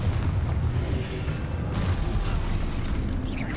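Boomy, rumbling blast of the Expulso explosion spell in Hogwarts Legacy, a loud, sustained low-end roar with crackling debris and a brief whooshing sweep near the end.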